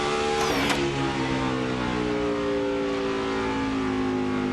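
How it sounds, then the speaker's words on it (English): NASCAR race cars from the 2005 Busch Series Kroger 250 scream past on the track, one engine's pitch dropping sharply as it rushes by, over a constant loud roar of other cars. "we're going to see the leader, Mark Truex Jr., going down in turn 1"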